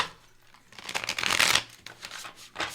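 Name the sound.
shuffling tarot cards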